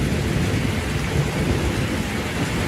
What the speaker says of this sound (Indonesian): Gimik apa lagi tiba-tiba ada hujan. Oh, ada gerimis.